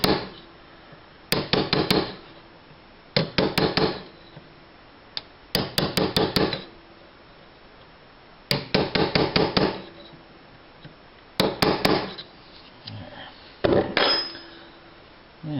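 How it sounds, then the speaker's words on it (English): A small metal punch is struck against part of a hard drive in repeated bursts of quick, ringing taps, each burst several hits long and separated by short pauses, loud and close. "got a little punch here, and tap that down a little"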